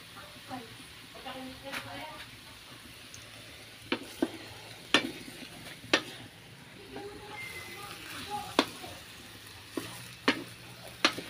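Dinuguan is stirred and fried in a pan, with a steady sizzle running throughout. Sharp clinks of the spoon against the pan come roughly every second, and faint voices sit in the background.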